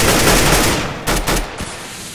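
Bursts of automatic gunfire sprayed through smoke in a first-person shooter game, a dense loud volley of rapid shots that tapers off, followed by a few separate cracks.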